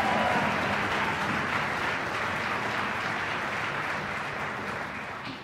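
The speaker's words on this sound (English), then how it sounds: "Let's give him a cheer." Applause from the audience at a college orchestra concert, a full, even wash of clapping that stays steady and then slowly tapers off.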